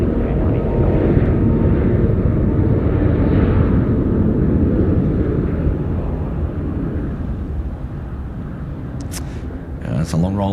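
A large airliner rolls out after landing on runway 34 left at Sydney Airport, a steady loud broadband engine roar that slowly fades over about ten seconds, with a brief higher-pitched burst near the end.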